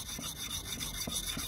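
Pruning shears for garden trees have their blade face honed on a portable whetstone, giving a steady close rubbing and grinding with a few soft repeated strokes and no talk.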